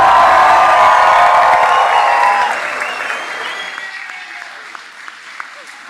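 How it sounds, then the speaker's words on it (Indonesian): Loud applause with some cheering from a crowd at a 2026 junior high school graduation for ninth-grade graduates at SMPK Santa Maria 2 Malang, full for the first two seconds and then thinning to scattered claps. "Tepuk tangan sekali lagi untuk kalian karena sudah lulus"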